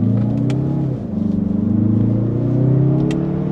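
A 2025 Mazda 3 Turbo all-wheel-drive hatchback, driven in sport mode manual, revs its engine with a loud, close drone. The pitch dips briefly and then climbs steadily again as it accelerates.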